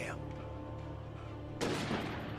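A short, sharp burst of gunfire in the Alan Wake video game hits hard near the end after a quieter stretch, loud and close.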